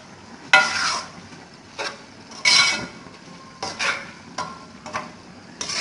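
Okra and garam masala are stirred in a hot pan, with several distinct scraping strokes of a spoon at an uneven pace over a soft background sizzle.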